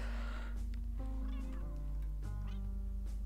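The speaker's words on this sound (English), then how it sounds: "Oh, they're playing! The cats are so cute!" Cats in The Sims 2 playing together, giving a few short synthesized meows and chirps over a constant bed of game music, with no talking.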